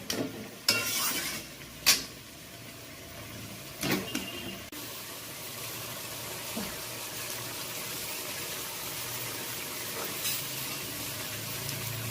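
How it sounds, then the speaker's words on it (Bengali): Spice masala frying with potatoes in a pan for aloo dum, a steady low sizzle broken early on by a few sharp clinks and scrapes of stirring against the pan, then settling into even frying. "এবার মশলাটা আলুর সাথে কষুক।"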